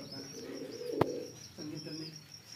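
Domestic pigeons kept in a rooftop loft coo in soft, low repeated phrases close by, with a sharp knock partway through and faint chirps above.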